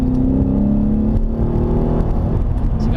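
A Ford Mustang GT with a 5.0 V8 engine accelerates hard, a loud, close, deep engine drone that holds strong throughout the short burst.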